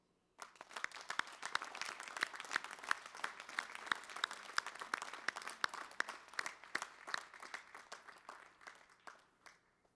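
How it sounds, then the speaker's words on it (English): A conference audience breaks into applause at a closing ceremony, starting abruptly and holding as a crackling, steady patter of many hands before thinning out near the end. "I'd like all of you to give a huge round of applause to Malik Pucha."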